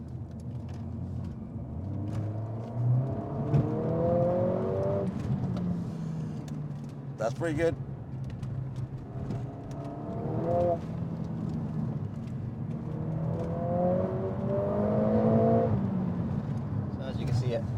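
An Audi car accelerates with a loud, rising engine note that climbs in repeated surges, with some popping, while people talk over it throughout.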